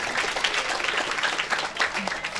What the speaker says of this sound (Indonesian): minta tepuk tangannya dari para hadirin dan hadirat semua